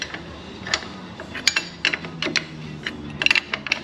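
A ratchet clicks in short irregular bursts while tightening a unit on a collision-damaged 2018 Jeep Wrangler, the metallic pawl ticks close and crisp against a quiet shop background.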